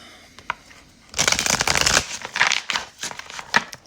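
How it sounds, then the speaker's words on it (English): Tarot cards being shuffled by hand, a few soft riffles at first, then a dense burst of rapid flicking and slapping, close and crisp with no speech over it. "So I'm just going to shuffle for your person."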